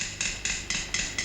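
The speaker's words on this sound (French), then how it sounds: "un chirurgien qui attaque à coups de marteau" A surgeon strikes with a hammer during a 1950s operation, giving five evenly spaced, sharp metallic blows that ring briefly, close and moderately loud, with no talk over them.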